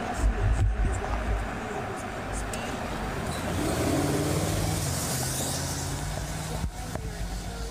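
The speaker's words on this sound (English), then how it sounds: "There's a car coming up right now, still speeding." A car speeds past on a city street in Milwaukee, rising and fading over a steady traffic rumble, with a voice talking over it.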